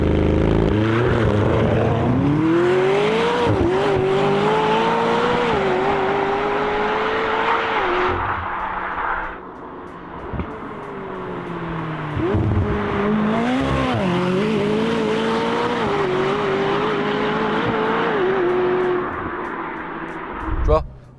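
A modified car's engine roaring and revving under load, rising and falling through gear changes with a pop from the exhaust as the shift paddle is touched on a wet surface, loud and close, with someone talking over it.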